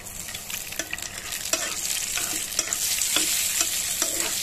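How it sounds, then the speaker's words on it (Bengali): Cashews and raisins fry lightly in refined oil in a pan, a constant close sizzle punctuated by repeated rhythmic scrapes and taps of a spatula stirring, with no talking. "কাজু আর কিশমিশগুলোকে হালকা করে ভেজে নেব"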